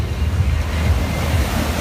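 Warm Black Sea waves wash onto a beach, a steady, loud roll of surf with wind buffeting the microphone throughout.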